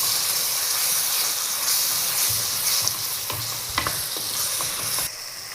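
Chicken mandi masala fries in oil in a pan and is stirred. A loud, continuous sizzle and steamy hiss carries irregular scraping and knocking strokes from the spatula, and the sizzle drops off abruptly near the end.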